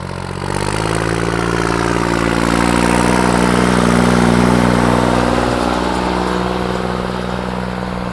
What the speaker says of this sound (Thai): ชอบเบิ้ลหรอ ชอบเร่งเครื่องหรอ